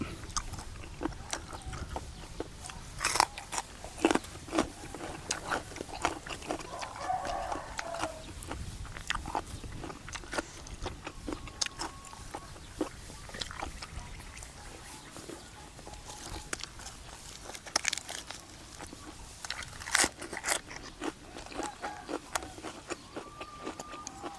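Someone chews crunchy hoi duea snails with bitter chili dip, close to the microphone, a steady run of sharp bites and crunches over a quiet background.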